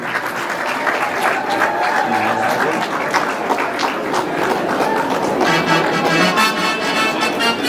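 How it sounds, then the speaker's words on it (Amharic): Wedding guests at an Eritrean ceremony clap together in a steady, dense wash of applause that fills the room, with a few voices mixed in under it. "ማጨብጨብ ይቻላል።"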